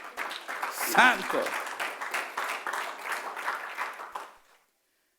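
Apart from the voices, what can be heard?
congregation applauding in church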